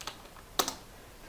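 Computer keyboard keys tapped while entering text in an Excel spreadsheet, a short burst of a few crisp clicks close by with a louder double keystroke midway, no voice.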